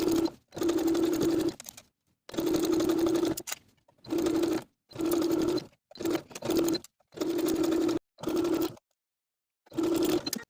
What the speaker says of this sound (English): I'm going to top stitch all the way around with about a 3/8 inch seam allowance pivoting around that center V